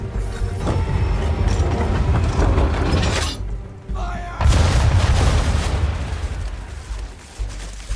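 Ship cannons fire in an Assassin's Creed 3 naval battle: heavy, loud booming volleys with crashing, rattling debris fill the scene, with a big burst at the start and another midway after a brief lull.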